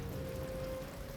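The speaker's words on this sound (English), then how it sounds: "Meanwhile, it's also raining." Steady rain falls across a settlement in the video game Stonehearth, a dense, even hiss of drops with a soft low rumble and one sustained tone running under it, without pause.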